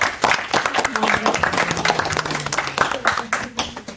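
An audience claps for a teacher seated at the table during a classroom discussion event, rapid uneven clapping heard together with voices talking over it.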